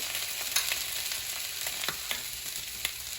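Pineapple bacon sausages fry in an oiled pan, browning on one side, with a steady broadband sizzle and small crackles and pops scattered throughout.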